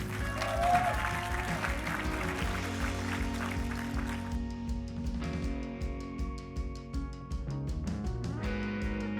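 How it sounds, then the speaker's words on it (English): Wedding guests in Miami applaud the newlyweds, a steady patter of clapping from a modest crowd, heard under a continuous layer of music. "So round of applause for the newlyweds."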